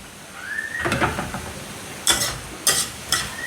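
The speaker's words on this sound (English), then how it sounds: "Beautiful, stunning stir-fry holy basil." Thai holy basil stir-fry, pad kaprao, being tossed in a pan gives a soft sizzle, with a few sharp scraping strokes of the spatula near the end.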